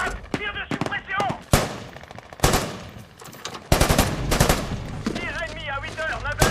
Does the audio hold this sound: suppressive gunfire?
yes